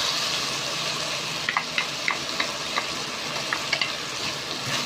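Garlic and onion sizzle in a hot pan for beef ampalaya, a steady frying hiss with a few sharp crackles and spatter pops in the middle, close and fairly loud, with no talking.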